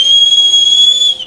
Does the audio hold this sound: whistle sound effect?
yes